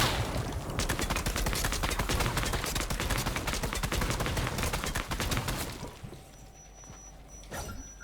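Rapid automatic gunfire firing blanks in the Fortnite video game, a dense, loud burst of shots that runs for about five seconds before dropping away to quieter game sounds with a final short shot near the end.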